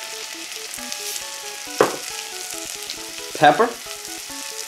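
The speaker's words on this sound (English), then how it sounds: "let's go ahead and get our broccoli sauteed off" Broccoli sautéing in butter in a pan for a broccoli and potato soup gives a steady close sizzle, with two louder bursts of frying as it is stirred or tossed.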